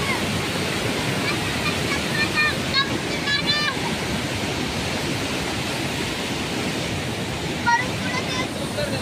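Kothapalli waterfall in the rainy season, a heavy and constant roar of falling water close by, with voices faintly audible under the rush.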